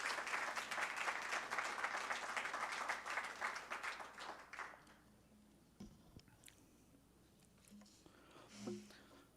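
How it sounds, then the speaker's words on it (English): An audience applauds a speaker at a church history symposium, loud sustained clapping for about four seconds that then fades to scattered claps and a quiet room. "Let's give some warm applause to Bradley Armstrong."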